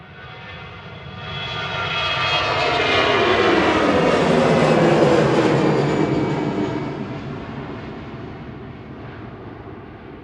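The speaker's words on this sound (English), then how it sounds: "EasyJet heading out to Bordeaux in France. GEZTX A320 Classic operating flight" An EasyJet Airbus A320 Classic jet takes off, its engine roar building from about two seconds to a loud peak near five seconds, then fading slowly as it climbs away, with no voices over it.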